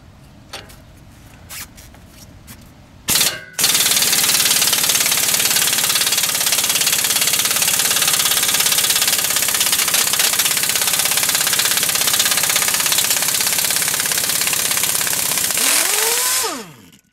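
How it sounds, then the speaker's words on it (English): A pneumatic impact wrench works at a seized rear suspension bolt on a 1990 Chrysler Imperial, giving a loud, continuous close-up roar for about thirteen seconds after a few faint clicks, then winding down at the end. "I've gotten a better hose for my impact wrench, and we'll see if we can get this out now."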